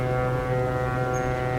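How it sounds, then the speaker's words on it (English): A ship's whistle sounds steadily as a vessel departs: one deep, sustained, rich-toned blast, loud and unbroken, heard on its own. "You will hear the whistle"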